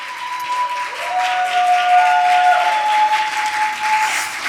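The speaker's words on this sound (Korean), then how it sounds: "우리 오실 때 박수로 크게 맞이해 주시면 너무너무" A church congregation at a Wednesday worship service claps loudly to welcome a missionary forward, with warm continuous applause swelling and holding, and a faint sustained musical tone running underneath.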